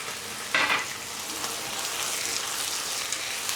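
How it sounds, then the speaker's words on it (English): Beef and white onion stir-frying in a pan give a soft, steady sizzle, with a brief brighter hiss as the food first lands, then a quiet, even crackle throughout. "Now the beef in. Onion, white onion."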